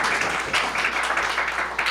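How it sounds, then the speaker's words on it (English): Audience applause at the inauguration ceremony of an international media conference, greeting a community leader, a continuous dense patter of clapping filling the hall at steady volume. "Just give them a round of applause."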